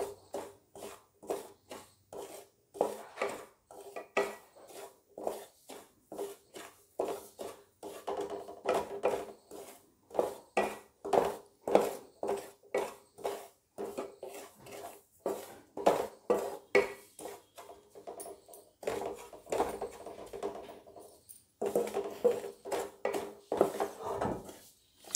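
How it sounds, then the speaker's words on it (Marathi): Semolina dry-roasting in a pan as a spatula stirs it, giving a fast, regular series of scraping and tapping strokes against the pan that continues steadily throughout, close and fairly loud. "याला पण आपण छानपैकी कलर चेंज होईपर्यंत, रंग बदलेपर्यंत भाजून घ्यायचं आहे."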